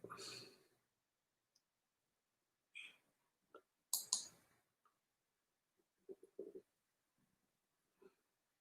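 A computer mouse gives a few faint, scattered clicks in an otherwise quiet room, mixed with brief soft bursts that may be a voice or handling noise.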